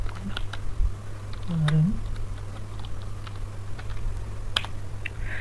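Computer keyboard keys tapped out a sudo command for removing a Docker container, giving a few sparse, soft clicks over a steady low hum while someone talks.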